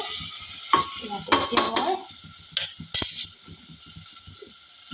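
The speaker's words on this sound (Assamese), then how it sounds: "ভালকৈ লৰাই" A utensil stirs sizzling food in a pan for a masur dal dish, giving a steady hiss with scattered scraping clicks. A person speaks briefly over it.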